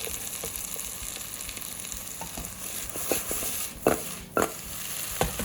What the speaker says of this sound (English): Okay, so now we put in the onions.